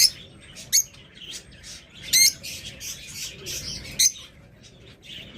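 Pet birds kept for sale chirping in bursts, sharp high squawks and tweets repeating irregularly, close and fairly loud over a quiet background.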